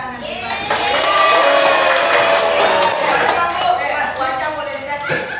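A class of children claps together at the teacher's request, a dense, steady burst of applause lasting several seconds, loud and close, with a few young voices mixed in.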